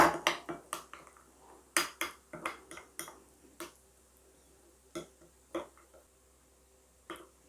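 Chopped two-colour capsicum is tossed and mixed in a bowl for prawn cocktail, giving a run of quiet, sharp clinks and taps from a utensil against the bowl, irregular and close, thinning out toward the end.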